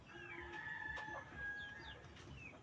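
Chickens cluck steadily while a rooster crows over them, with several crows rising through the short stretch of farmyard noise.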